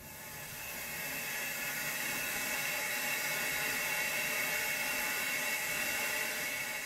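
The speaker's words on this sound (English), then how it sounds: "Steam is coming out from the bottom of the steamer." Steady, loud hiss of steam pouring out of a garment steamer, continuous and broadband with no pauses, close to the listener.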